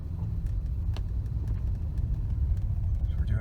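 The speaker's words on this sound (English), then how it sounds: "I'm going to drive up this gravel lane here." A 2008 BMW 750Li drives slowly, at low speed, up a gravel lane, giving a soft, steady low rumble of engine and tyres with faint crunching ticks from the gravel, heard from inside the car without talk.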